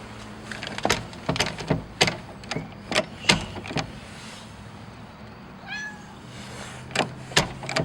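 A person imitates a cat, meowing once with a short rising-falling cry, amid scattered sharp knocks and clicks in a quiet room.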